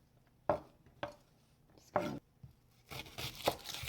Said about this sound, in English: Onion, and slice the garlic, big chunks as well.